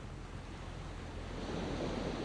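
Waves wash onto the shore at Hegar beach in a steady, broad roar of surf and wind, swelling slightly toward the end with no voices.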